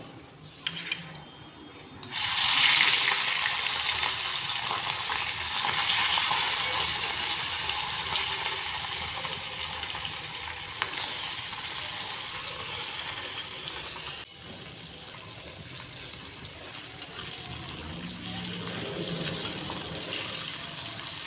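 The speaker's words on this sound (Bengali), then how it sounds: "মাছগুলো আগে ভেজে নিচ্ছি।" Small puti fish fry in mustard oil in a home kitchen, a loud, steady hiss and sizzle that flares up sharply after the first couple of seconds, then carries on evenly and eases slightly toward the end, with no voices.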